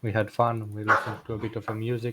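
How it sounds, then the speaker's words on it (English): Dogs bark and yip in short bursts at moderate distance while someone talks over them. "Sorry about my dogs"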